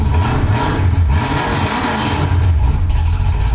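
Ford Mustang engine revving steadily, a loud close rumble with strong low-end throb and rising, surging pulses, carburetor fed, with no talk over it.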